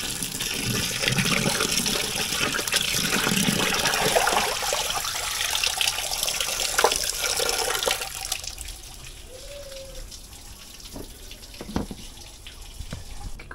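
Water runs and splashes steadily as cut food is rinsed outdoors for Jamaican curry chicken back and roast breadfruit, the flow loud at first then easing into softer trickles and drips.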